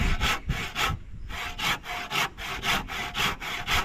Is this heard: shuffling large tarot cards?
no